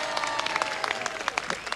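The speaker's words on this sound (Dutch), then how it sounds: "Dames en heren, geeft u zichzelf maar even een applaus." A large concert audience at a live jubilee show in an Eindhoven hall claps loudly and steadily, a dense continuous roar of many hands filling the space.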